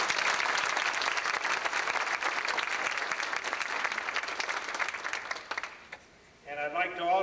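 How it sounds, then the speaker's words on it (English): A roomful of guests at a 1989 retirement party gives a loud, sustained round of applause for the staff who decorated the tables. The dense clapping fades out near the end, and a voice starts speaking. "I'd like to give them a good round of applause."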